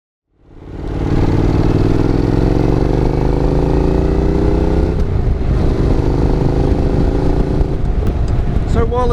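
A Honda NC750X motorcycle engine roars loud and close for the whole stretch, holding a steady drone with a rising pitch as the bike rides along on a sunny day.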